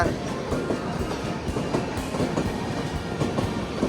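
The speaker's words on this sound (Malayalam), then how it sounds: "അയ്യോ എന്താ സ്പീഡാണല്ലേ രാജധാനിക്ക്." Rajdhani express train rushing past at high speed, a loud, continuous roar of rolling wagons with rhythmic clickety-clack of wheels over rail joints, close by throughout.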